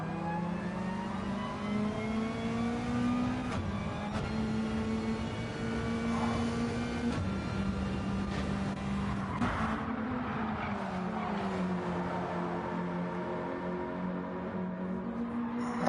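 Race cars lapping during a circuit race, engines droning and shifting pitch as they pass, a steady sustained roar with gear changes and some tyre noise, heard from trackside.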